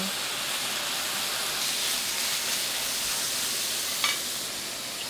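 Beef brisket stir-fried with garlic and onion in a pan gives a steady, close sizzling hiss that runs unbroken throughout, with a brief clink of utensil near the end.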